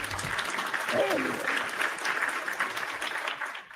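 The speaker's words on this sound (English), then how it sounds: "let me give a mad round of applause" Applause from a small audience at a live podcast taping, a steady patter of clapping with a few voices calling out over it.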